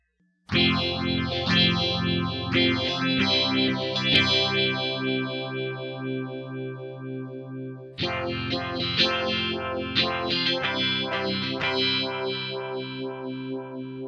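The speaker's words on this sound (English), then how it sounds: "The classic Vibe effect on the MD-200 is modeled after the vintage Univibe" Guitar chords played through a Univibe-style vibe modulation effect on an MD-200 pedal, pulsing and throbbing, ringing out in two long strummed passages with a brief restart midway.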